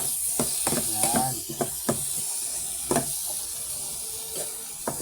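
Corned beef with potatoes sizzles in hot oil in a pan, with a steady hiss and a scatter of sharp clicks and knocks from stirring with a utensil, close and fairly loud.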